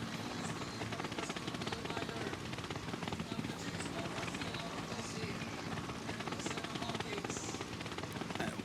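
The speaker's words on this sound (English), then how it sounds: "You can hear the helicopters hovering above." Helicopters hover over a women's road cycling race in Norway, a steady loud thrumming rotor drone filling the whole stretch, with crowd and ambient noise mixed in.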